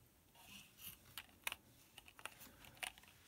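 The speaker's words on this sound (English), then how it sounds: "with mechanical keyboard" Quiet, close clicking of keys being typed on a mechanical keyboard built into a small Pi-style computer, irregular keystrokes spread across a few seconds.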